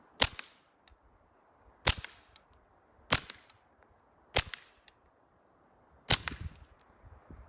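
Five sharp, dry impacts of suppressed Smith & Wesson Model 41 rounds striking a fallen tree outdoors, spaced about a second apart, each a crisp crack with a short tail.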